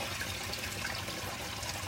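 Water pours steadily into a sump pit beside a house foundation from both sides, a continuous close rushing trickle with no talk.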